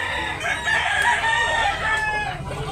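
A two-year-old Boston Roundhead rooster crows at a poultry market in Tabunok, Talisay, Cebu, with one drawn-out crow rising over a background of other clucking fowl and a busy outdoor din.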